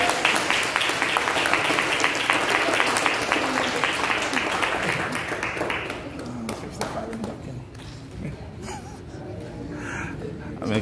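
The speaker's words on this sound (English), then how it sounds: "a round of applause for our" A church congregation applauds its senior citizens, loud and sustained at first, then thinning into scattered claps and murmuring voices as it fades.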